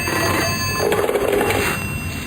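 A telephone rings steadily against a hissy, noisy background, one continuous burst of bell tone with no voices.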